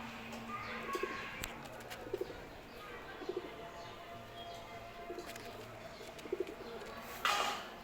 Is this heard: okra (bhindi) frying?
no